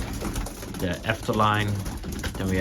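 Racing pigeons coo softly in a loft, with a low throaty burble running steadily under someone talking close by.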